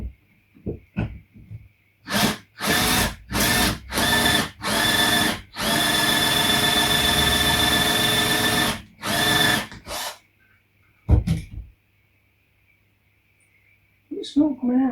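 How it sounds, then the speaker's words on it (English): A power drill boring the centre hole of a 7-inch vinyl record, heard in a run of short bursts followed by one long sustained whine, with breathing and handling noises in the pauses. "locate the drill in the centre again"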